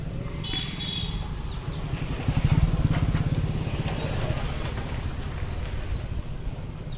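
A new car's engine runs steadily while the vehicle travels along a road, a continuous low rumble with a brief swell in the middle.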